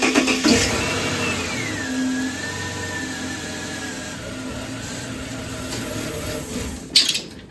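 A Ford Falcon XR6 engine idles steadily after its fuel pump and pressure regulator were replaced, a smooth mid-pitched running hum with a brief rise in level near the end, heard close with no talking.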